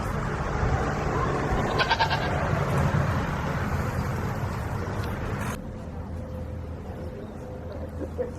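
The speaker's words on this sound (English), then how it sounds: "We've got some goats here." Goats bleat in bursts at a small farm with potted plants, close and fairly loud, against outdoor noise and a low rumble, before things quiet down near the end.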